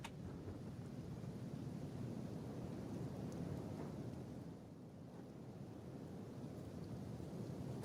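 Acid rain and rumbling thunder in the video game Kenshi, a continuous low, wind-buffeted storm roar, fairly faint and steady, with no talking.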